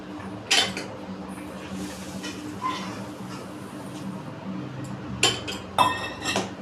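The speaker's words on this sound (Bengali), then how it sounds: "এবার আমি গোবিন্দভোগ চালটা দিয়ে দেবো।" Gobindobhog rice tips into a pot of boiled lentils for khichuri, with a few quick rattling pours and light metallic clinks of the pot and utensils over a quiet kitchen background.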